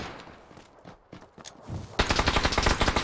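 PUBG gunfire: scattered single shots and quieter game sounds, then a loud sustained burst of rapid automatic fire with a pulsing rhythm through the final second.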